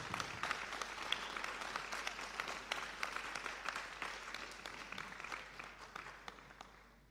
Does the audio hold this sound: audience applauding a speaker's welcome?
yes